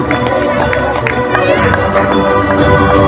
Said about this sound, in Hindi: तालियों के साथ स्वागत कीजिए हमारे आज के कार्यक्रम के अध्यक्ष श्री विकास बुलचानी सर का